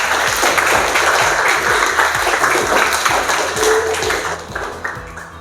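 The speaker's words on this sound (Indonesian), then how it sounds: "tepuk tangan untuk buat kita semua" A classroom of students claps together in a steady, rhythmic beat, loud and close, the sound easing slightly toward the end.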